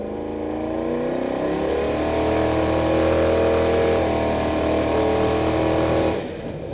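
A twin-engine truck pulls away from a stop sign and accelerates into second gear, its engine note rising in a loud, steady drone that holds for about six seconds before dropping away, with no talk.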